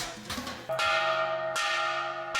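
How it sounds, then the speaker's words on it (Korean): A bell rings to call residents to breakfast at a care community in Haiti, struck in a few loud, resonant strokes at roughly one-second intervals, each ringing on and overlapping the last, with no talking. "아침 식사를 알리는 종이 울린다."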